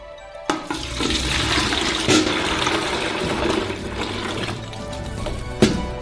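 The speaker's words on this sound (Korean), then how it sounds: "양동이에 주스를 모아줄 거예요. 양동이로 부어주세요." Carrot juice is poured from a container into a bucket in a loud, continuous close gush of liquid, opening with a sharp knock and ending with another clunk.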